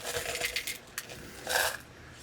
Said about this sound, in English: that noise you hear is me trying to find a couple of beans that will work for eyeballs